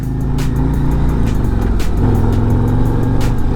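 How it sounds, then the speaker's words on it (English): A 2024 Harley-Davidson Road Glide motorcycle rumbles steadily on a test ride, its engine drone loud and close with continuous low throb and wind noise, no speech over it. "we're gonna test ride the new Road Glide"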